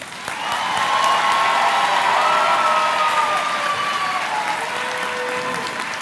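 Loud, dense applause from a crowd at a high school graduation ceremony, sustained clapping with cheering and shouted voices mixed in, filling the whole stretch at a steady level.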